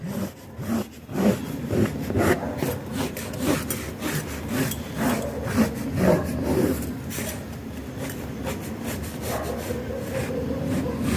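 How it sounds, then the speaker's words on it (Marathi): Scissors or a blade cutting paper or card along the outline of a homemade Mahalaxmi mask, giving steady rasping, scraping strokes that repeat close up without any voices. "मुखवट्याची बाह्यरेषा कापून घेऊया"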